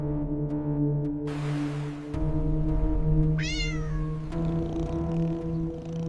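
A cat on Cat Island in Japan meows several times, a clear close call rising and falling over a steady background hum, with no one talking.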